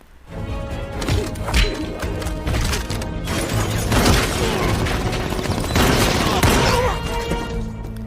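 Dense, loud film gunfight: rapid bursts of gunfire and booming impacts crowd together nearly continuously, with crashes and smashes layered throughout the action scene.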